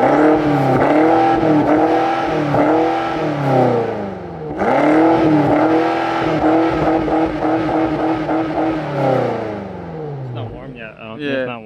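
A BMW X6 M twin-turbo V8 engine revs hard and loud, rising and falling through several throttle blips, then settles as it winds down.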